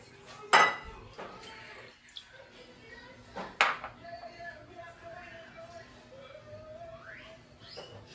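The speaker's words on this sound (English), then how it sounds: "First, we will put the Mentos into the vinegar." Mentos candies drop into a cup of vinegar with two sharp clinks against the cup, then quiet liquid and dish sounds follow, with faint voices in the background.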